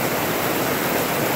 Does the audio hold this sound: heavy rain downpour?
yes